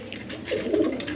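A pair of large Indian Bombay pigeons coo close by, a soft, throaty warbling burst rising in the middle, with some light rustling around it and no speech.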